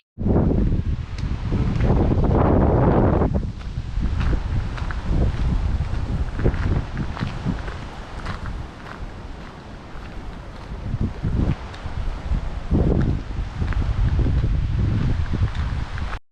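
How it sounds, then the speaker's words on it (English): Strong wind buffets and roars continuously in rainy weather at Schönbrunn Palace in Vienna, with gusty surges and rustling, and wind noise hitting the microphone throughout. "throughout the day it was raining and extremely windy"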